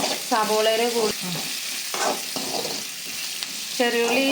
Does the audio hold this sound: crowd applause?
no